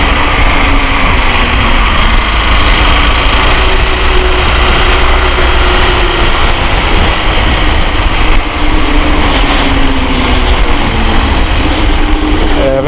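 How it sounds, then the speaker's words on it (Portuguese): Four-cylinder car passing on a city road near a bridge in Pelotas, Brazil, a loud continuous engine drone mixed with road rumble and steady traffic noise, with no speech over it. "vem uma 4 cilindros aqui"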